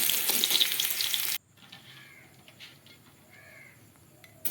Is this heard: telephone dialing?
no